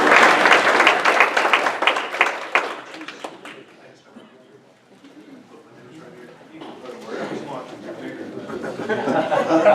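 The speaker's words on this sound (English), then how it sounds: "Please give him a great round of applause." Audience applause for a speaker at a community business event, loud and dense at the start, fading to a lull in the middle, then rising again with murmuring crowd and chatter toward the end.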